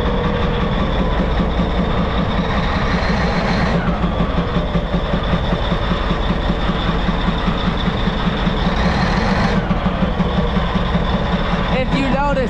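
A Caterpillar 773B haul truck diesel engine with catastrophic engine failure idles steadily up close, a loud continuous rumble with a rhythmic throb that holds throughout, while voices talk over it.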